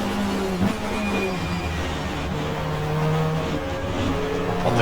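A 1994 Australian Manufacturers Championship race car in GTR2 at Mallala drones steadily in a higher gear, the engine note holding with slight pitch shifts and a bump or two from kerbs, loud and continuous.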